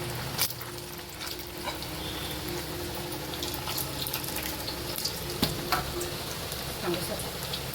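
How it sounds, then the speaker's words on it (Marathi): Garlic fries in very hot oil while making lemon pickle, a steady close sizzle and crackle running the full length at even loudness, with a few brief sharper pops. "त्याच्यामध्ये आपण तळून द्यायचा लसूण चांगला"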